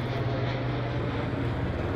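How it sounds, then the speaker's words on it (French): An airplane flying overhead, a steady loud droning engine rumble that holds for the whole two seconds with no voices. "merci l'avion"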